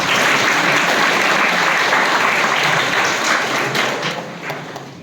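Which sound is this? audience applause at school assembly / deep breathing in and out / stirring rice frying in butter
audience applause at school assembly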